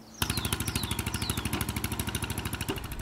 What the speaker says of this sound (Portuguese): Ele tem um motor estacionário abastecido a gasolina